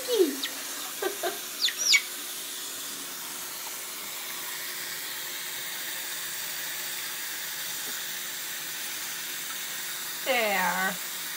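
A pet chicken being given a bath makes a few short squawking clucks near the start and another brief call near the end, with quiet running water or hiss in between.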